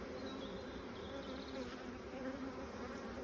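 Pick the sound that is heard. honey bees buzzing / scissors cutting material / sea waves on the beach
honey bees buzzing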